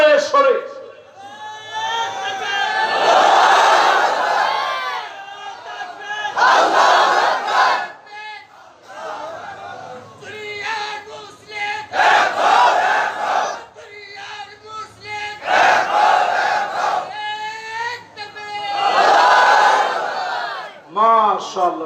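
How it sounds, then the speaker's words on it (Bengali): A large crowd at an Islamic sermon gathering loudly chants takbir, roaring in unison in repeated bursts of a few seconds each with short pauses between, a single voice leading before each response. "এবার একজন তাকবীর দেন জোরে সরে।"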